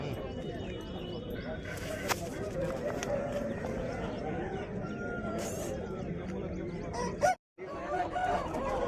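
An Aseel rooster crows amid the bustle of a Saturday hen market in Mydukur, Andhra Pradesh, its call rising over steady crowd noise and nearby talking voices.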